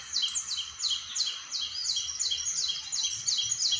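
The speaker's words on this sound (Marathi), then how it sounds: "चिमण्यांचा आवाज बारीक बारीक" Sparrows chirping in quick, repeated high-pitched notes in the morning in Konkan, a lively run of tweets close by with a faint background hum.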